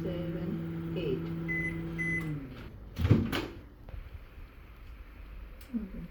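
A microwave oven hums steadily while heating a frozen mango ice cream burger, then beeps and its door clicks open, followed by faint handling noises in a quiet room.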